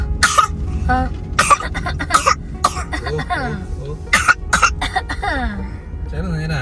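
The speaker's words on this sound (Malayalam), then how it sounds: "ആക്ഷൻ ചുമയും അടവ് ചുമകളും ഉണ്ട്." Repeated coughing and throat clearing in several bursts, close by, with some voiced sounds between the coughs.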